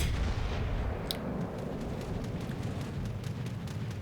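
Naval guns firing in World of Warships, a deep rumbling salvo boom at the start trailing into a low, sustained rolling roar.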